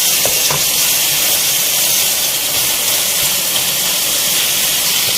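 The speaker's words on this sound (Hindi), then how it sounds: "ये तो हमारा मसाला देखें थोड़ा भुनना स्टार्ट हो गया है, इसको ऑयल अलग हो रहा है।" Tomato masala frying in oil in a pan for an aloo baingan curry, a loud, steady sizzle and hiss that carries on without a break and close to the mic.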